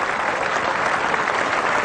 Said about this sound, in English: Hard-working Cook gets a round of applause from the dressing room.